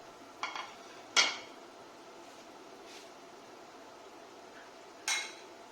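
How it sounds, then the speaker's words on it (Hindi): Metal utensils clink against a pan as chicken is mixed in for Mongolian chicken, a few sharp scrapes and taps spread apart over a quiet background hum. "और अभी हम इसमें चिकन मिक्स कर देंगे।"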